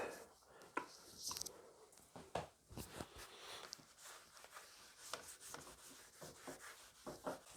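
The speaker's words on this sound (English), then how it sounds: "I'm just going to give it a very quick coat of paste wax" Paste wax is rubbed onto a guitar body with a cloth, producing soft, irregular scrubbing and brushing strokes. The strokes are close but quiet, with occasional sharper swipes and no talking.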